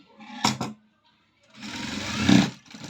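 A sewing machine stitches a cross-cut blouse at close range in two short bursts, a brief rattle then a longer whirring run after a pause, with no talk.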